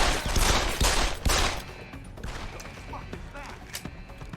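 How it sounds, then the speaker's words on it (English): Gunfire from a non-silenced weapon shooting a security camera in Deus Ex: Human Revolution, a quick burst of several loud close shots in the first second and a half, followed by quieter clattering and lighter impacts. "I guess shooting a camera with a non-silenced weapon is not exactly quiet"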